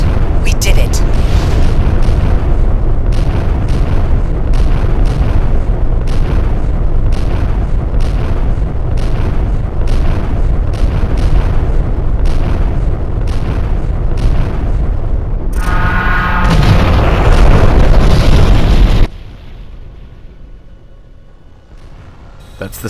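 Space combat game explosion as a destroyed Shivan cruiser breaks apart: a long run of loud, rapid rumbling blasts, then a sharp final burst that cuts off into a quiet tail.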